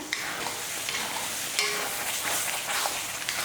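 Bitter gourd thokku frying in oil in a pan, stirred and turned with a steady bright sizzle and soft scraping strokes, close and continuous with no talk.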